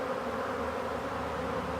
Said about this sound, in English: there are a few bees, they are getting a bit agitated and they are starting to take flight a bit